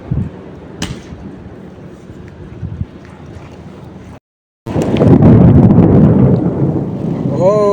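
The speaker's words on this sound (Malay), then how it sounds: "ribut buat hujan angin" Deep rumbling thunder rolls under gusting wind and rain, briefly cutting to silence before a louder, roaring burst of storm noise returns.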